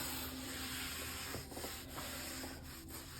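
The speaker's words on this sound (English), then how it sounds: "rub a little bit on the tiles themselves and get a bit more of that residue off, the buildup of the grout." Grout residue rubbed off tiles, a faint continuous scrubbing and rubbing texture over steady background noise, close but quiet, with a few brief scuffs.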